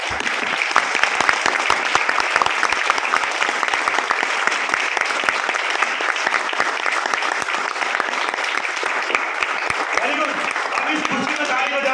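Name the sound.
audience clapping at a business seminar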